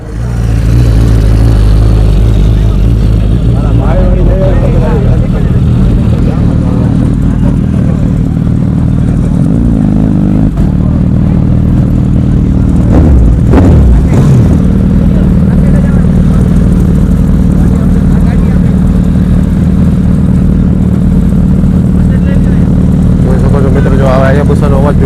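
A Suzuki Hayabusa superbike revving at a luxury car expo in Rajkot, loud throaty engine roar swelling and dropping over a long stretch, with people talking over it.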